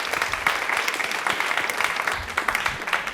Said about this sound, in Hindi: एक बार तालियां जोरदार हो जाए मैम के लिए प्लीज़, जोरदार।